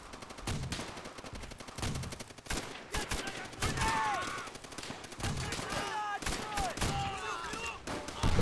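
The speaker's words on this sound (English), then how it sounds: "Another minigun over there. Machine gun, whatever it is," Machine gun fire in the World War II video game Call of Duty: World at War, dense rapid bursts of shots throughout, mixed with whistling and battlefield noise.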